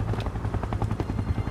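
Helicopter rotor thudding loudly and steadily in the video game SCP Containment Breach, a fast rhythmic chop close by, heard alone without talk.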